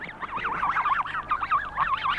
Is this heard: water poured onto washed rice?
no